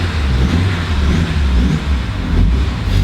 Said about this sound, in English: So, if you want the car to be running, you have to rev it all the time.